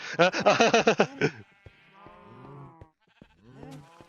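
A rapid, wavering sheep bleat up close, followed by a few softer, drawn-out bleats with pauses between them.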